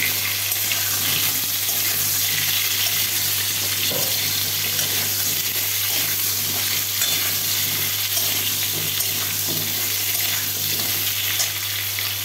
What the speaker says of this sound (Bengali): ফোড়ন দিয়ে আলুটা ভেজে নিচ্ছি